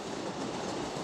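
A freight train crossing an iron bridge gives off a dense, steady, close rumble with rattling clatter and no pauses.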